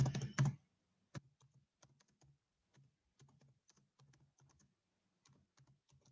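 Keys tapped on a computer keyboard while a lesson topic is entered on an online school platform, a loud burst of rapid strokes up front followed by sparse, light, irregular keystrokes, close and clear with no talking.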